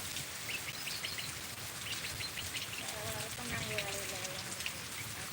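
Steady rain pours down outdoors in the open where cattle are getting soaked, a dense continuous patter with a few faint bird chirps mixed in.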